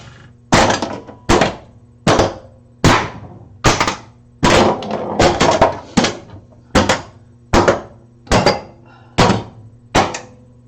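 Pinball machine solenoids and coils firing one after another in a test mode that also moves the cannon, about thirteen loud, sharp thunks spaced roughly 0.7 seconds apart over a steady low electrical hum.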